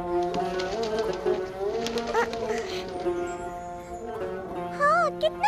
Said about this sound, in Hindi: कितना खूबसूरत कबूतर है।